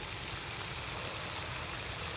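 Steady aeroplane engine drone passing overhead at a campsite, a continuous low rumble holding at an even level throughout, with no voices.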